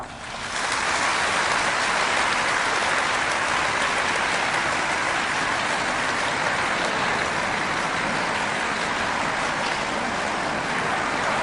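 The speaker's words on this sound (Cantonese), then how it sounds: "請大家一齊拍掌" A church congregation applauding newly baptized members at an Easter light ceremony, a dense, steady wash of clapping from a large crowd that holds evenly throughout without talk.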